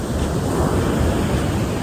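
Sea waves rush past a boat in a loud, unbroken roar of surf and wash, close up and thick with wind buffeting, with no voices.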